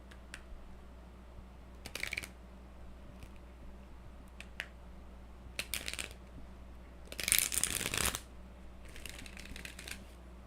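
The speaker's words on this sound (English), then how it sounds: "there's nothing like shuffling a fresh deck of cards" A fresh, stiff deck of playing cards shuffled close by in a quiet room, with several short crisp riffle bursts separated by silence and one longer flurry, over a low steady hum.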